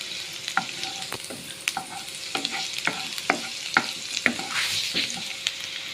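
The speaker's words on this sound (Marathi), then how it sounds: "लसूणूय बरी फ्राय कोता, बरी गोल्डन ब्रावन जावं पासून" Garlic frying to golden brown in a pan, crackling and sizzling while a utensil scrapes and taps in a steady rhythm of repeated stirring strokes, close and clear with no talk.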